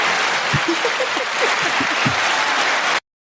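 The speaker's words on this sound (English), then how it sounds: "A round of applause, please." A round of applause on a podcast set, sustained broadband clapping that fills the moment and cuts off abruptly, with a few brief vocal sounds over it.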